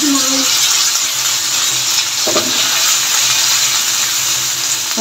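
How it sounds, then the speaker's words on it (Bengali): Thin-sliced chicken pieces, three breasts' worth, frying in a pan with a steady, loud, hissing sizzle and a brief clink of a utensil partway through. "আর এই পাশে আমি এখন যে কেটে রাখা চিকেনটা দিয়ে দিচ্ছি।"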